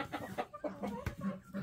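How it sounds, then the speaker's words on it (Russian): Chickens and roosters cluck in short, close bursts, a series of quick choppy calls at fairly low level with no talk over them. "О, петухи. Петухи."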